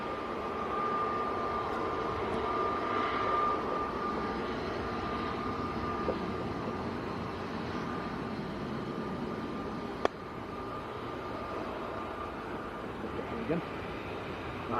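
Saudia airliner in 75-year livery departing Manchester Airport for Jeddah, a broad, steady jet engine roar heard from a distance, sustained throughout with a faint tonal whine and occasional small clicks.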